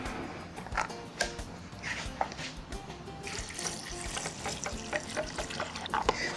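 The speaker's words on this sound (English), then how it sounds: "we're going to add water to cover the ingredients" Water pours into a crockpot over red bean soup ingredients, a steady splashing trickle with intermittent louder splashes, moderately close and with no talk.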